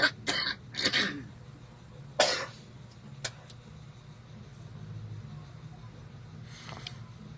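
Several harsh coughs come in quick bursts near the start, another cough follows a moment later, then a quiet background hum with a couple of faint clicks.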